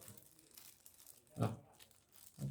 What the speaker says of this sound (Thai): นี่ครับ พันเลยครับ เพราะว่าถุงพลาสติกนี่เขาเจาะแล้วครับ